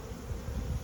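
Bees buzzing close together around a little honey on an edge, a faint continuous hum with low rumble and no voices, short and steady.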